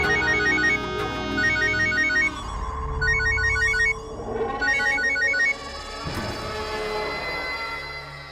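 A telephone ringtone trills in repeated bursts of chirping tones, fairly loud and close, with background music underneath.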